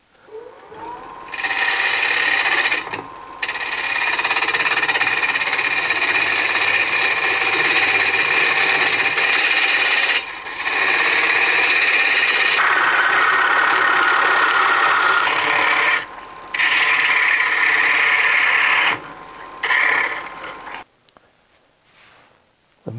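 A wood lathe roughs out a cherry bowl blank in a loud, sustained whirring drone with a steady cutting hiss, broken by several brief pauses, then trailing off near the end.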